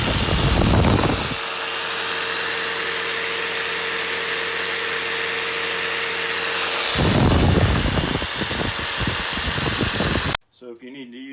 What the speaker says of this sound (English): it can run the jigsaw as well.